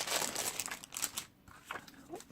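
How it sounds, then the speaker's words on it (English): Designer series paper with polka-dot patterns, used for a card, crinkles and rustles in short bursts close by as sheets are handled, with a brief pause before the rustling resumes. "sorry for the rustling"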